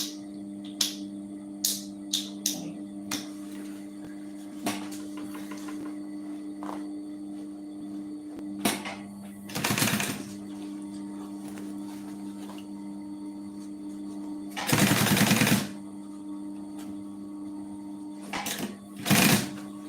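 A sewing machine stitches a puffer backpack at a longer stitch length, its steady hum running throughout with brief louder whirring bursts and small clicks, close by and with no talking.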